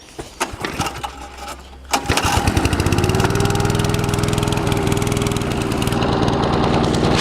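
A lawn mower is started with its throttle set to maximum before a first mowing; a few rough pulls and sputters give way to the engine catching and running steadily and loudly at full speed.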